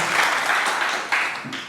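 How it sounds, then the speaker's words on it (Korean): A short, steady wash of applause from a seminar audience at a Holiness church welcoming a professor to the podium, dense and moderately loud before fading slightly. "박수로 한번 환영해 주시겠습니다."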